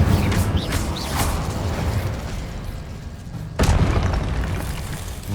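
The Incendio fire spell in the video game Hogwarts Legacy: a dense, roaring whoosh of flame with low rumbling booms, a sharp burst partway through followed by a renewed roar, loud and sustained.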